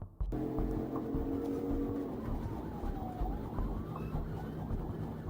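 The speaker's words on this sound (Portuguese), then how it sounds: "com as sirenes alertando os motoristas para liberar espaço e desviar, dando passagem para a polícia" A police siren wails with a faint sweeping tone over heavy, continuous traffic rumble during a pursuit, the siren thin and partly buried under the road noise.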